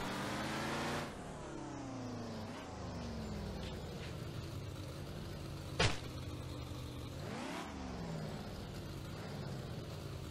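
A car engine in the DeadPoly video game revs and drones steadily while driving, its pitch rising and falling through several gear-like sweeps, with one sharp brief click near the middle.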